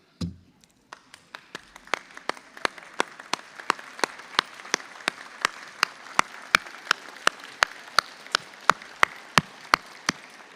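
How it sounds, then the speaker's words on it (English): Graduates at a University of Iowa College of Pharmacy commencement ceremony clap for the audience, starting as a few scattered claps and building into a steady, dense applause with sharp individual claps standing out near the front. "give them a big round of applause and thank you"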